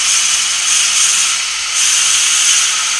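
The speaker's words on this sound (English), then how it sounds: "Now this is a 50mm bit, so it's making a big hole, and it's generating a lot of heat as well." A 50mm Forstner bit bores a large hole in wood held on a lathe turning at roughly 500–600 rpm, giving a steady, loud, broadband cutting hiss that dips briefly midway and then resumes.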